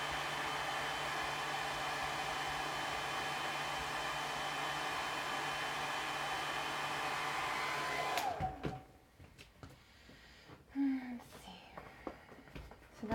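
Heat tool blowing on vinyl being stretched over a craft pumpkin, a loud steady whirring blast with a faint tonal whine that cuts off abruptly partway, followed by quiet handling sounds and a brief spoken remark.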